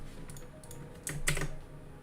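Someone types on a computer keyboard in quick, faint bursts of key clicks, with a couple of firmer strikes near the middle.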